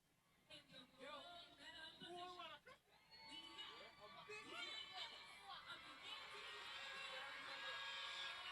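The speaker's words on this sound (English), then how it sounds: "you can hear the crowd in the background" Crowd at an inter-primary schools' sports day, a steady background wash of children shouting and chatter with voices rising and falling throughout, talk mixed in over it.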